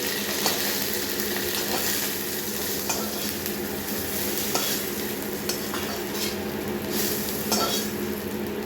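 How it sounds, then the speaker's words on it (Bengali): Papaya pieces frying in oil in a pan, with a steady close sizzle broken by repeated scrapes and clinks of a spoon stirring against the metal. "এবার এইটাকে ভালো করে ভাজা হয়ে গেছে একদম"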